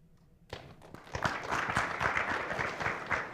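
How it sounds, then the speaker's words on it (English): Audience applause at a county commissioner candidate debate, breaking out after a short quiet start and building into steady, moderately distant clapping that carries through to the end. "We're going to have everybody hold your applause until the end"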